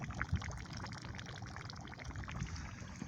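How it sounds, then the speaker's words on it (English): Warm water bubbles up from small geysers into a puddle surrounded by frozen ground at 16 degrees, making a faint, steady gurgle with soft trickling and occasional small pops, heard close and quiet. "this whole puddle is warm water coming up out of these geysers that are bubbling"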